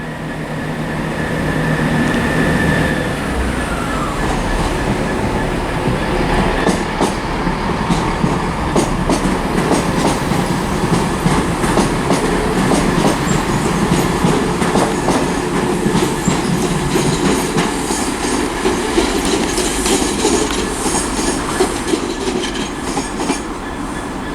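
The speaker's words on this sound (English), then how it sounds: "Departing now, whilst I yap on, is the 1412 Great Western Railway service to Weston-super-Mare, which is 166210" A Great Western Railway class 166 diesel unit, 166210, pulls out of Bristol Parkway, its engine droning steadily and loudly for the whole stretch with wheels clicking over rail joints, no voices.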